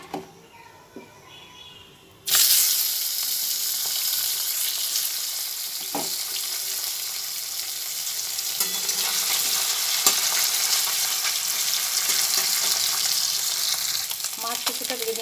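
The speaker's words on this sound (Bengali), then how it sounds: "তেলটা গরম হয়ে আসছে, তখন কিছু গাংমরোলা মাছ তেলের মধ্যে দিয়ে ভেজে নেব।" Small Gang Mourola fish drop into hot oil in a wok and set off a sudden, loud sizzle after a quiet start, with the frying crackling steadily and strongly and occasional stirring sounds.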